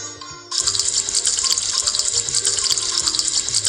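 Plates washed by hand under a tap: after a quiet half-second, a loud, steady gush of running water starts and continues without a break, close by and with no voices.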